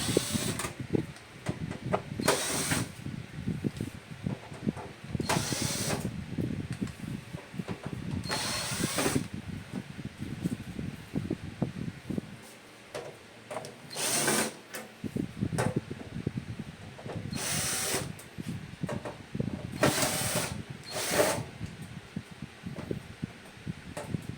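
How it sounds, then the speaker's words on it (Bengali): A power tool unscrews nuts from an amplifier's cover in repeated short whirring bursts. The bursts are spaced across the stretch, with mechanical rattling and handling noise between them at moderate loudness. "এখানটাতে অনেকগুলো নাট লাগানো আছে নাটগুলো খুলবো সবার প্রথমে"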